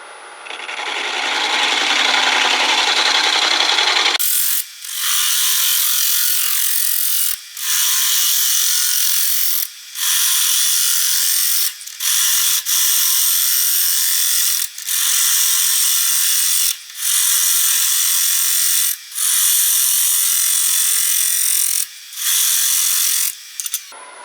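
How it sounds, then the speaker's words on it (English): Woodturning tool making drag cuts across a spinning red oak platter on a lathe, a loud steady scraping rasp broken by short pauses about every two seconds after a quieter opening stretch. "What I'm going to do is I'm going to come in here with drag cuts like so."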